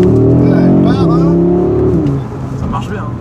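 A car driven hard by a garage boss revs loudly up close, its engine note climbing and dropping in pitch over a few seconds before easing off, while people talk briefly over it.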